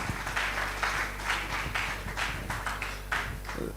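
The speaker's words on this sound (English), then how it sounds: "Please, may we applaud again Dr." Audience applause for Dr. Musa Babayo at a 2021 conference, a steady, moderately loud wash of clapping from a room full of people with a low hum beneath it.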